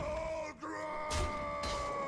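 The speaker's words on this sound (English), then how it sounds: "Just listening to that guttural scream" Mankrik, a Hearthstone character, lets out a long guttural scream, loud and near, rising and breaking into a strained wail across two seconds.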